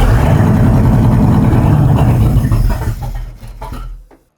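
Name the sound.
car engine idling during diagnosis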